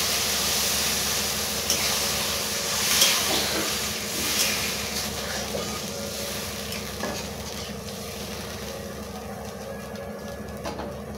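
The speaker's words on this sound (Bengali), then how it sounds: "মশলাটা ভালোভাবে কষানো হয়ে গেছে, তেল ছেড়ে গেছে, আমি এবারে জল ঢেলে দেবো।" Water hits a pan of well-fried spice paste for a sea-fish curry, setting off a loud, steady sizzle and hiss that holds close and continuous, with a few brief bursts near the start.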